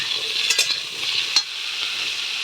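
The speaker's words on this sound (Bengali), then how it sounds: "লবণ দিয়ে ভালো করে ভেজে নেব।" Taro and potatoes fry with salt in a pan, giving a steady bright sizzle with a few quick stirring scrapes, close and continuous with no voices.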